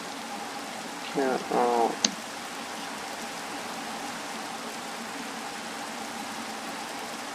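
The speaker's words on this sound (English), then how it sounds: "it looks like I can't turn off the rain, so it looks like we might be in the rain" Steady rain falls in Minecraft, a soft continuous hiss running through the whole stretch while a voice speaks briefly near the start.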